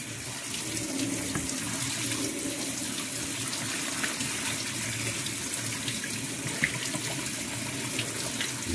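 Cold water running from a kitchen tap while cooling boiled prawns, a steady splashing stream into a sink, continuous and close, with no voices over it.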